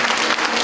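An audience claps for a child performer at a concert, a brief, dense burst of steady applause heard close and loud.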